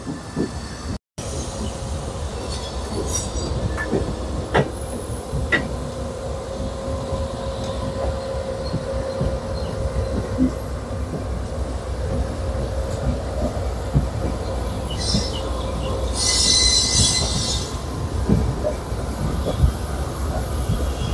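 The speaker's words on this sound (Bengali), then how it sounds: "সাউথ ইস্টার্ন রেলওয়ে কোন একটা লোকাল ঢুকছে।" A South Eastern Railway local train rolls past near a railway bridge, its steady rumble loud and continuous throughout, with brief high metallic wheel squeals flaring toward the end.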